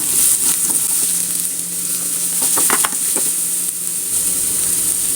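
A finely chopped large onion and a few chopped green chillies fry in a pan with a loud, steady close-up sizzle; soft stirring scrapes and clinks rise briefly in the middle. No one speaks.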